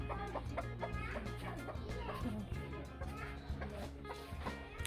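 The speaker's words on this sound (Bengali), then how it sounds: "এই যে আমার এই গিন্নি মুরগিটা ওকে বসিয়ে দেওয়ার জন্য চেষ্টা করা হলো তাও বসলো না" A hen clucks repeatedly near the microphone in a rural yard, short throaty calls in an uneven rhythm with other fowl noises mixed in, loud and close throughout.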